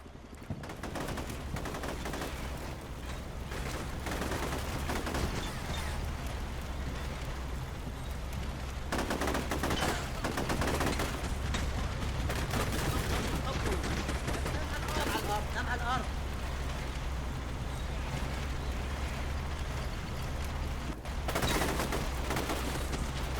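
Gunfire from a Combat Mission wargame battle, with rapid bursts and scattered shots crackling over a low rumbling backdrop of distant combat, while someone talks throughout.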